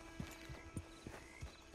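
Horse hooves clip-clop at a walking pace in the Red Dead Online video game, with evenly spaced soft thuds over a faint ambient backdrop.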